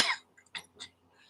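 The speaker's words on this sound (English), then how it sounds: "It feels like it's taking forever for this cough to go away." A single sharp cough opens, followed by a couple of shorter, fainter throaty bursts, all close and alone in a quiet room.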